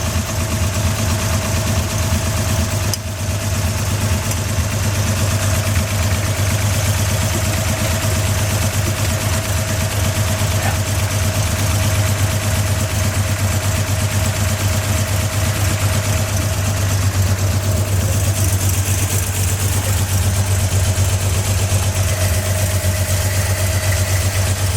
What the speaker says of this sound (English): It's popping through the carb a little bit.